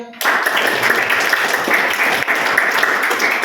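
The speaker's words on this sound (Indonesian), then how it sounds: "Tepuk tangan buat kalian semuanya." Classroom applause from students after group presentations, a steady dense patter of many hands clapping close by that continues for several seconds without pause.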